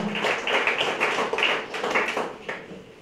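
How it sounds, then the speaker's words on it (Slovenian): Audience clapping for a young music-school contestant, Katja Jakš, at a performance event; a moderate burst of many hands with uneven taps, fairly close and loud, without voices. "Aplavz za našo tekmovalko, prosim"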